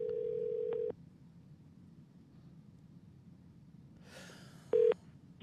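A telephone dials out to place a call: a steady tone cuts off, followed by near silence, a brief rustle and then another short electronic beep, with no one talking.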